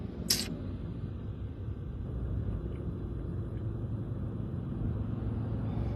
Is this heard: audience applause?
no